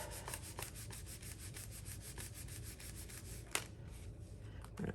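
A folded paper craft card gets a steady rubbing by hand, producing a continuous close, soft scratchy friction with faint rhythmic strokes, a single small tap and no speech.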